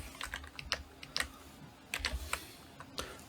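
Keys clatter on a computer keyboard in irregular bursts of clicks, close and fairly quiet, with short pauses between strokes and no one speaking.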